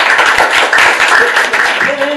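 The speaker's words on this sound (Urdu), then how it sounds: "تالیاں بجا دیں نا۔" Children at a televised show clap in a lively, uneven burst that runs throughout, with talk mixed in.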